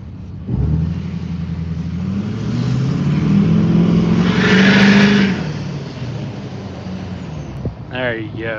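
A blue Chevy S10 burnout truck revs its engine nearby, the loud roar swelling to a peak and easing off again over several seconds, with a voice briefly heard near the end.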